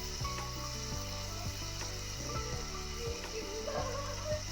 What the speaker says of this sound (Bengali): আলুটাকে ভালো করে কষে নিচ্ছে